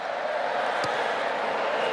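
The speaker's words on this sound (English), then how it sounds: "Now the crowd is still singing" Rugby sevens crowd in a New Zealand stadium during an England versus New Zealand match, a broad, steady wash of distant singing and cheering filling the air, with a single sharp thud standing out briefly.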